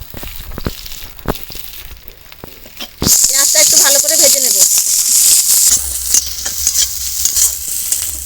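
Loud, steady sizzling of chopped onion and green chilli frying with panch phoron starts abruptly and continues, with a few stirring scrapes; quieter kitchen sounds and light clatter come before it.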